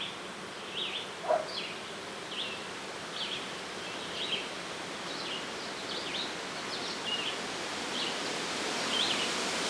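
Honey bees buzz steadily around outdoor beehives in a backyard apiary, a dense continuous hum with individual bees passing close now and then, alone with no talking.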